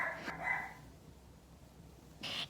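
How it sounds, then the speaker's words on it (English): Dogs bark faintly in the background, with one short bark at the start and another brief bark after a quiet pause. "oh, it's the dogs."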